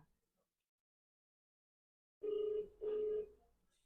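Phone call ringback tone: two long, loud ring bursts follow a stretch of silence, with no voices over them.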